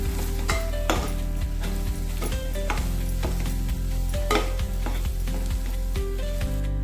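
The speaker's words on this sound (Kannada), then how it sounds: "ಸ್ವಲ್ಪ ಖಾರ ಪೌಡರ್, ಸ್ವಲ್ಪ ಗರಂ ಮಸಾಲೆ ಇಷ್ಟನ್ನು ಹಾಕ್ಕೊಂಡು ಮಿಕ್ಸ್ ಮಾಡ್ಕೊಳ್ಬೇಕು" Chilli powder and garam masala being stirred into a moth bean curry in a pan, with a steady sizzle and a regular rhythm of spoon scrapes and taps against the pot, close and alone.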